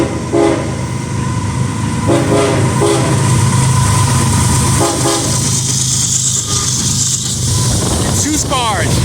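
A CSX freight train rolls past close by at reduced speed, a loud steady rumble of wheels and cars with a horn-like tone and exhaust roar, continuous throughout with a voice briefly speaking over it.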